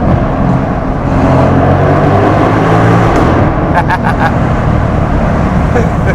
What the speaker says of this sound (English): that's the Porsche